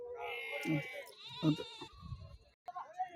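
Sheep bleat at a village livestock market in Venkatapur, Rajanna Sircilla district, with two strong nearby bleats and a fainter one among the crowd noise while people talk throughout.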